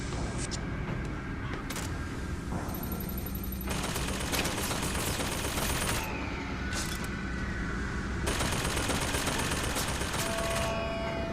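Pistol gunfire in the shooter game Bioshock Infinite: bursts of shots and loud, dense combat noise over continuous game ambience for the whole stretch.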